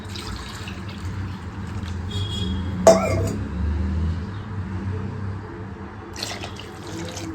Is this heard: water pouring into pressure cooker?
yes